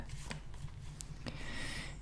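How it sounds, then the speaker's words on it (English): Tarot cards shuffled by hand, a brief riffle of crisp papery flicks and taps followed by a soft sliding whoosh, close and clear with no voice. "as I'm shuffling the cards"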